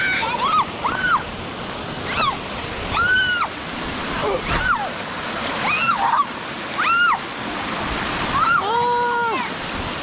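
A waterfall rushes steadily and loudly during a toy boat race, with repeated high shrill squeals and voices rising over the constant roar of water.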